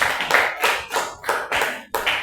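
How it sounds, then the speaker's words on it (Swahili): Group clapping in a church service, coming in about five quick rhythmic bursts of hands striking together, close and fairly loud with brief gaps between each burst and no talk over it. "Ipigie makofi."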